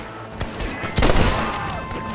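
In Red Dead Redemption, a gunfight breaks out with a few sharp, loud gunshot cracks followed by a heavier burst of shots and echoing reports, mixed with other game sounds and some voice.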